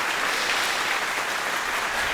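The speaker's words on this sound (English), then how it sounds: "So let's clap for me." Dense, continuous clapping from a small audience at close range, steady throughout with no talk over it.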